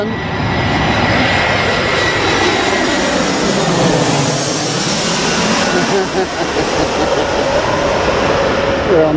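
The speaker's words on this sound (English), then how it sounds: "and there's a plane." An airplane flies over Victoria Park in Belfast, which lies on a flight path. Its loud, steady engine roar swells toward a peak mid-pass and then slowly eases, filling the whole stretch.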